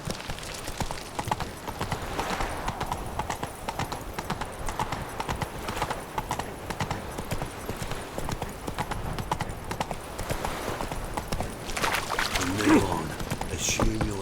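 The horse Roach gallops in a fantasy video game, its rhythmic clip-clop of hooves steady and moderately loud across the whole stretch, with a brief voice and faint ambient sound mixed in.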